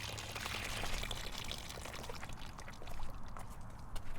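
Water from a bucket pours steadily through a fine aquarium net at a riverbed, a continuous close splashing rush that holds for a few seconds with no talk.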